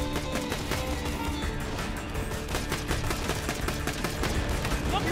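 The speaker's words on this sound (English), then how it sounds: "This pistol's good when it hits." Dense, rapid pistol fire in Borderlands 2 during a Hyperion Slaughter round, shots cracking in quick succession amid other gunfire and a chaotic battle din that never lets up, with a player talking through it.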